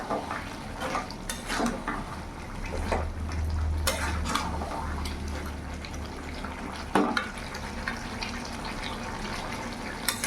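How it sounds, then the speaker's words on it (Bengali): Katoa stalk curry (chorchori) being stirred and pressed in a pan over a full gas flame, with scraping and clinking of a spatula against metal, sharp knocks now and then, over a low steady sizzle. "ভালো করে মিশিয়ে নেবো গ্যাসের ফ্লেমটা এখন ফুল রাখলাম একটু এইভাবে একটু ঠেসে ঠেসে দেবো"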